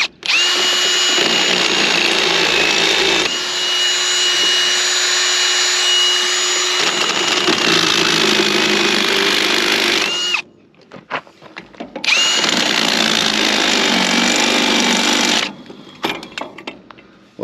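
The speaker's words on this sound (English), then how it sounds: "I'm going to use a step bit, and I'm just going to grab a little bit of this steel off of here and drop the bolts in." A power drill fitted with a step bit bores out holes in the steel of a trailer jack, a loud steady whine running in two long bursts with a short pause between them and no talk.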